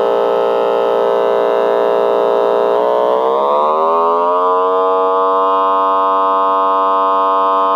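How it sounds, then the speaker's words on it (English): A steady, loud electronic tone from a test oscillator set near AC mains frequency, buzzy and rich in harmonics, sliding smoothly downward in pitch partway through and then holding steady. "Some of you might recognize approximately AC mains power line frequencies."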